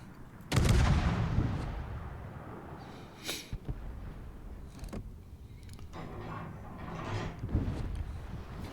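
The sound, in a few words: naval guns firing in video game World of Warships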